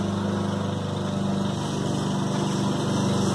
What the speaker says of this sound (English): You can hear the gardener is already mowing the lawn.